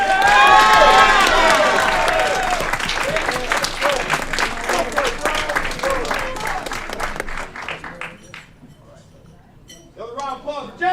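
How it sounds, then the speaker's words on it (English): A council-meeting audience gives a big round of applause for a basketball champion, loud sustained clapping with cheers and shouts that gradually thins out and fades, followed by a brief burst of voices. "Big round of applause for"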